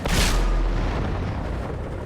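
Artillery piece firing in World of Tanks: a single loud boom with a sharp blast at the start, followed by a rumbling, fading roar under a steady background for the rest.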